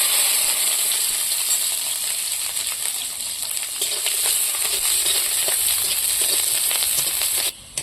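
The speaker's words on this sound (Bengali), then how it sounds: "আর এই তেলের মধ্যে আমি এখানে এই রসুনটা আর কাঁচা লঙ্কাটা ভেজে তুলে নেব।" Garlic cloves and green chilies fry in hot oil in a pan, a steady loud sizzle with crackling pops running nearly the whole time before cutting off at the end.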